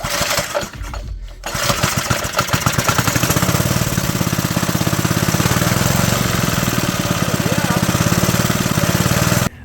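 The small engine of a Doodlebug mini bike starts after a brief pause and settles into a close, loud, rapid chugging idle that keeps an even rhythm throughout.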